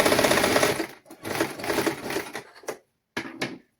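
A sewing machine stitches a half-inch side seam on children's clothing, running in several loud, rapid mechanical bursts separated by short pauses.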